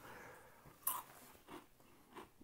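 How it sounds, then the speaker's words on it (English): Crunchy buffalo-flavored Chex Mix chewed close to the mic, with a sharp crunch followed by a few softer rhythmic chews in an otherwise quiet room. "Yeah, nice little buffalo crunch, but, a little grainy."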